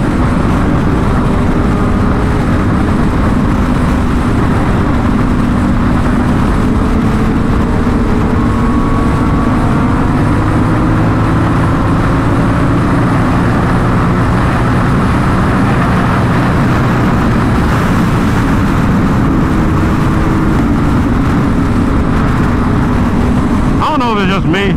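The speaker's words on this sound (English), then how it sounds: "these guys' bikes are so much louder, like, I feel like, than mine" Loud sport motorcycles race on the street in a continuous close engine roar mixed with heavy wind rush, sustained without a break for the whole stretch.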